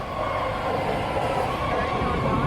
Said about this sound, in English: we got on the BART train